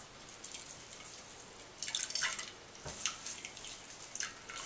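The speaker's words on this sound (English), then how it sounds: "now we're going to just squeeze the liquid out of this mixture" A chai spice mixture with cloves, mace and nutmeg is squeezed by hand, and liquid drips and splashes in short, faint bursts. The sound grows busier in the second half, with no voices.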